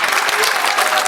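Audience applause at a Diwali gathering poetry recital (kavi sammelan) in Noida, dense continuous clapping from a crowd, loud and close, filling the whole moment.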